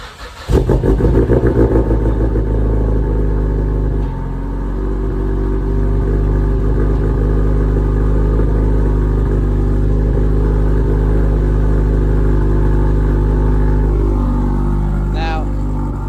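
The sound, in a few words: Mazdaspeed 3 car engine running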